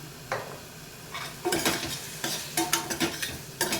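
Onions cooking in a pan for a ridge gourd curry are stirred with a utensil, giving a series of scraping, clinking strokes over a soft sizzle, close and fairly loud.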